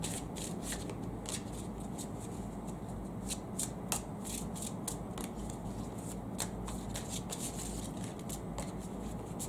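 Tarot cards are shuffled close by in a continuous, steady riffling patter for the whole stretch, with crisp flicks of cards scattered throughout and no talking.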